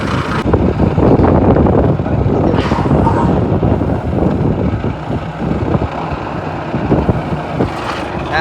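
A tractor runs loud and close from a seat on the vehicle in a guava orchard, a heavy, steady rumbling engine with wind buffeting the microphone throughout.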